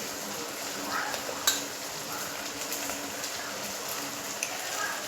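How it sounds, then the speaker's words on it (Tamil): Mint, coriander and curry leaves frying in oil for mushroom biryani, a steady soft sizzle with occasional clinks of a spoon stirring against the pan. "அதையும் இது கூட சேர்த்து நல்லா ஃப்ரை பண்ணலாம்"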